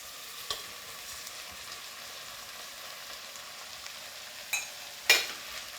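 Soaked basmati rice goes into hot oil in a pan for a rice-and-peas pilau, giving a faint steady sizzle with a few sharp knocks near the end.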